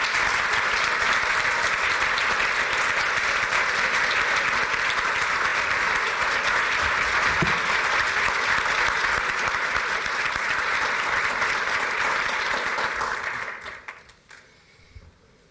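An audience at a Washington DC symposium applauds to welcome Ambassador Dailey, with steady, dense clapping sustained for about thirteen seconds before quickly fading out.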